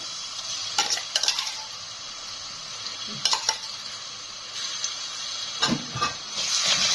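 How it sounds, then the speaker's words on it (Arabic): Oil with a spoonful of ghee heats in a pot on a gas stove, giving a steady close hiss with faint sizzling, broken by a few brief clatters of a utensil against the pot. "الزيت بس كده يقدح معانا"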